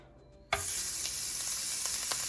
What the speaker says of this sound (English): You need to hear that when you sear your meat or burger, or it needs to be piping hot.